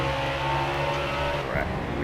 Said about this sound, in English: if you listen to my throttle, if you notice, I'm not full on the gas in turn 4.